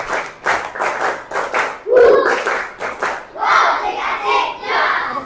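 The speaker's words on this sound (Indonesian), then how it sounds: "Tepuk tangan buat kita semua." Schoolchildren in an elementary classroom clap a rhythmic group clap chant, with bursts of hand claps in a patterned beat mixed with shouted chant voices. The sound is loud and close.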